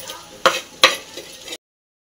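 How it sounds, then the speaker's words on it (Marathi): Two sharp pounding hits crushing green chilies on a hot griddle over a low sizzle, then the sound cuts off abruptly. "आपण ना मिरचीचा ठेचा तव्यावरच वाटून घेणार आहे"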